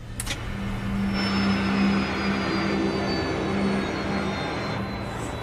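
A hijacked jet airliner idles on the tarmac in front of a control tower, its engines running with a steady loud whine and a low drone that holds throughout, with no voices.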